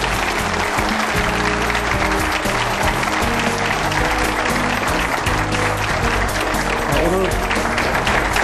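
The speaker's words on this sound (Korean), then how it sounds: "오늘 열강을 해주신 우리 김 사장님께 여러분 후배 여러분들 큰 박수 부탁드리겠습니다" A crowd of university students applauds after a CEO's lecture, with steady clapping running throughout beneath a voice and a music bed.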